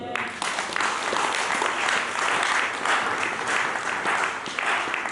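A church congregation applauding to acclaim the Lord during a sermon, a sustained, dense burst of many hands clapping, loud and steady from start to finish.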